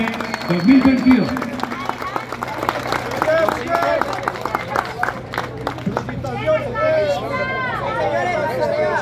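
Crowd applause and cheering for the stage 4 podium of the 2022 Vuelta a Colombia cycling race, steady and fairly loud throughout, mixed under an amplified announcer's voice talking over it.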